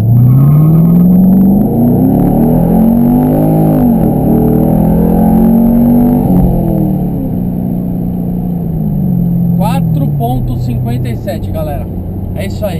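A Chevrolet Camaro SS convertible engine revs hard and climbs through the gears in a 0–100 km/h run, loud and close, with rising and falling pitch sweeps; a voice is faintly audible at moments.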